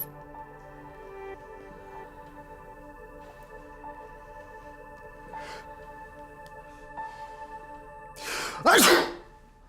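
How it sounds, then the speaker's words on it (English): A single sharp, loud sneeze bursts out near the end after a stretch of quiet room tone. "I just sneezed."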